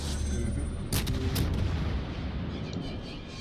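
Naval guns fire from the cruiser Zao in World of Warships: a couple of heavy booming salvos land close together near the middle, set against a constant low rumble of battle.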